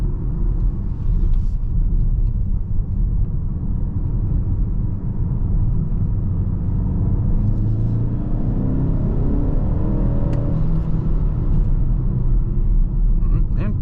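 A 2023 BMW X1 28i with front-wheel drive cruises and accelerates, its engine a steady low rumble with road and tyre noise filling the cabin throughout, no voices heard.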